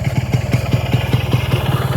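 A heavy motorcycle styled like the KGF bike idles close by in a loud, even, thumping rhythm.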